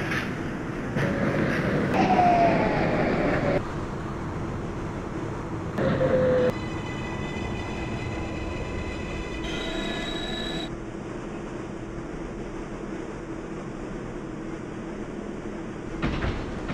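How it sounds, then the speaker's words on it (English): A New York 6 local subway train runs in Manhattan, with loud rumbling and squealing wheels early on, then a quieter steady hum broken by door chimes and short bursts of noise. "This is a Brooklyn Bridge bound 6 train."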